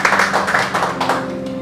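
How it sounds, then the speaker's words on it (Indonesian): Applause for a guest on a talk show, a short run of close, rhythmic hand claps with some hum underneath. "Kita beri tepuk tangan untuk Bro Sony."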